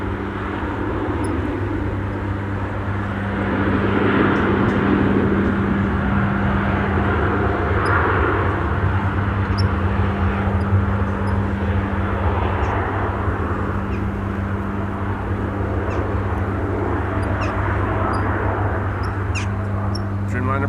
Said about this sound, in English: is time for KLM Flight 879 to fly out to Bangalore in India.